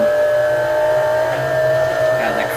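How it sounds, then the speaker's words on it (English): A race car engine in Assetto Corsa, driven at the Nürburgring, holds a loud, steady high-pitched drone at sustained revs without pause. "God, that car sounds so good."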